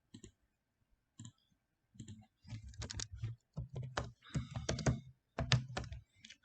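Computer mouse clicks during an online CCNA networking lesson on switch configuration: sharp, close clicks in scattered bursts, some single and some in quick clusters, with near silence between.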